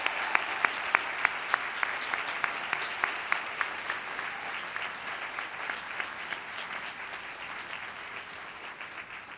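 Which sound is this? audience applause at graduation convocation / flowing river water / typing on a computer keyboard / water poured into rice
audience applause at graduation convocation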